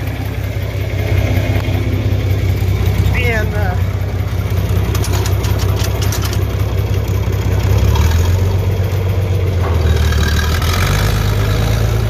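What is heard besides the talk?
truck engine idling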